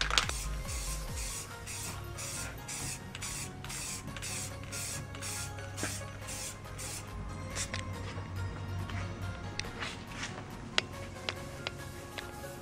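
Spray from a can as a final clear coat goes onto a car headlight, a series of short hissing bursts in quick rhythm early on, then scattered clicks and ticks, moderately quiet with no talk.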